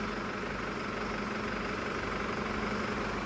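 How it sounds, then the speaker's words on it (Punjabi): A tractor engine idles steadily nearby, a constant low, throbbing drone with no change in pace, heard alone. "ਟਰੈਕਟਰ ਸੋਹਣਾ ਚੱਲਦਾ ਬਾਈ ਨੋ ਡਾਊਟ ਪੂਰਾ ਸੋਹਣਾ ਚੱਲਦਾ"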